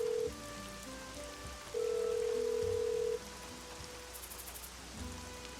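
Steady rain falling in the video game Troubleshooter, a constant hiss of drops on surfaces under sustained game music tones, with a brief high chime near the end and no speech.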